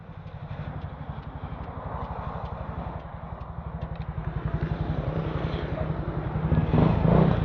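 A 2019 Yamaha Mio Soulty motor scooter with a freshly fitted genuine V-belt runs steadily nearby, its single-cylinder engine giving a continuous pulsing putter that builds slightly toward the end.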